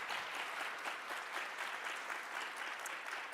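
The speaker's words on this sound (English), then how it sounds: "Let's give a warm welcome or warm applause for this lovely panel." Steady applause from a conference audience at a general session, filling the whole stretch with dense clapping at a fairly quiet level and no voices on top.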